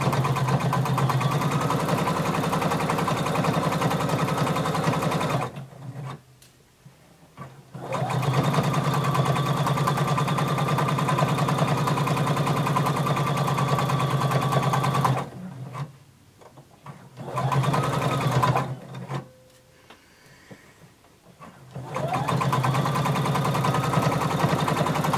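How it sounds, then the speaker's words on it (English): A sewing machine stitches a 5/8 inch seam on a garment made from a Simplicity pattern, running in long steady bursts with brief pauses between runs, close and alone with no talk. "back stitch and start to sew"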